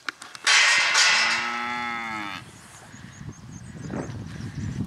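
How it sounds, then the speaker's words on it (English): Young calves on a farm give a loud, drawn-out moo nearby, followed by quieter shuffling and hoof sounds in the pen. "So these are the youngest of Alan's calves"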